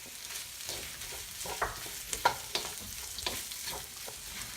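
Sliced onion with salt, ginger and garlic sautés in a pan for chicken masala rice, a steady sizzle broken by close scraping and stirring knocks, with no voices.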